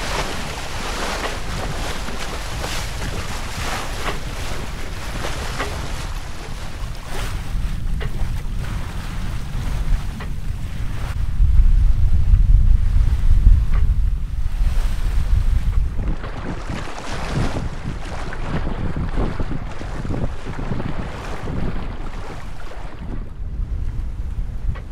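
Sailboat under way in open water on a trip toward the Faroe Islands, with a steady wash of waves against the hull and gusting wind buffeting the microphone, swelling louder mid-way through.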